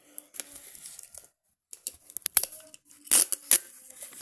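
Tape crackles and rips in short bursts with pauses between, close by, ending in a few sharp tearing strips.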